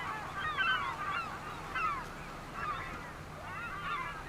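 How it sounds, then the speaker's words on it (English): Seagulls calling in Farming Simulator 25 on a Western Australia wheat farm, several drawn-out cries repeating every second or so over a steady low background hum, at moderate distance. "And noisy seagulls"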